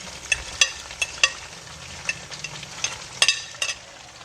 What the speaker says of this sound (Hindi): ये देखिए अच्छी तरह से फ्राई हो रहा है।